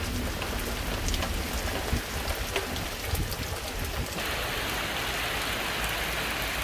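Heavy rain falling steadily on a garden, a dense even hiss of drops with occasional louder spatters, close and constant throughout with no talking.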